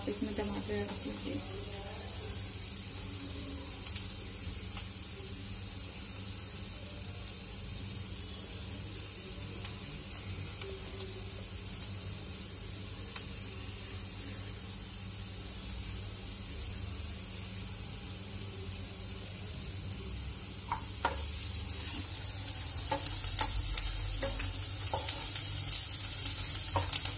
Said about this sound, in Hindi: देखिए दोस्तों हमारे प्याज भून रही है धीरे धीरे